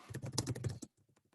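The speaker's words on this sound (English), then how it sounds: "I'll try and type it out for everybody." Rapid clatter of keystrokes on a computer keyboard, a dense burst of clicks followed by a few sparse, quieter taps, close and faint.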